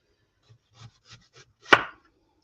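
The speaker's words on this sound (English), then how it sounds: "Nice onions. Don't your onions look like this? I just thinly slice them." Knife thinly slicing onions on a cutting board: four soft, evenly spaced cuts followed by one sharper, louder chop, close and dry with no talk.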